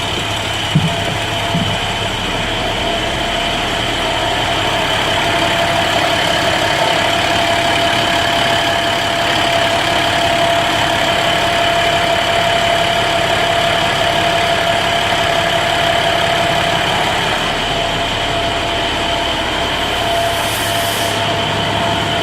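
International DT MaxxForce diesel engine running steadily after an in-frame rebuild, a loud continuous mechanical drone with constant hum and clatter throughout, no talk.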